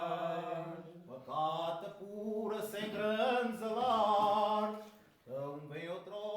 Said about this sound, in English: It's called Cante Alentejano, one singer leading the chorus.